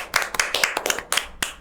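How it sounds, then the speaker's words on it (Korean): A small group of people clap their hands together in quick, uneven bursts, loud and close, for a short run of claps. "박수 치는 게 이제 익숙해서 하는 걸로 결정했습니다"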